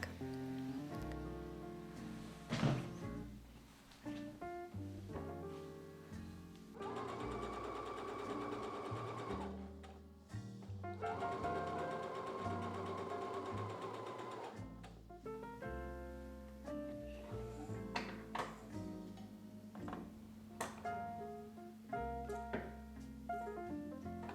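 A sewing machine stitches the rod pocket of a cafe curtain in two bursts of rapid, buzzing stitching of a few seconds each, heard over soft background music.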